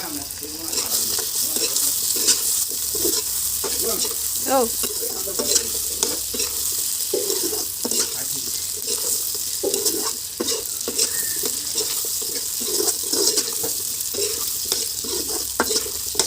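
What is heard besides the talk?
potatoes and jackfruit seeds frying, stirred in pan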